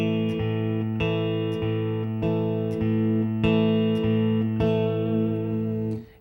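Electric guitar picks an even eighth-note pattern, an open fifth string followed by strings four and three, in a rocking back-and-forth rhythm; clean and moderately loud, with no speech.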